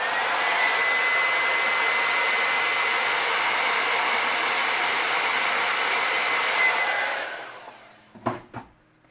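A heat gun blows a steady, loud, close whoosh while heat-setting paint on a fish lure, running unbroken for several seconds before switching off, followed by a few light clicks and handling knocks.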